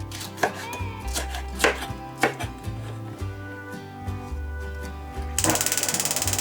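A knife chops red chili pepper for garnish on a board: a few separate, crisp strikes at first, then a quick rapid burst of chopping near the end, heard up close over faint background music.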